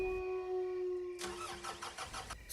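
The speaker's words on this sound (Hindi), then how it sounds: "गाड़ी चालू नहीं है।" A car engine fails to start on a deserted forest road at night: a steady tonal hum gives way to a repeated cranking chatter of short bursts for over a second, with no catch or idle following.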